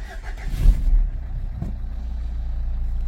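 A Renault 1.5 dCi 110 hp diesel engine cranks and catches in a short, loud burst, then settles into a steady low rumble at idle.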